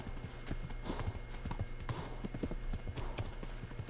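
Horse hooves in the medieval video game Kingdom Come Deliverance, a steady, fairly close clip-clop of repeated hoofbeats over faint background noise.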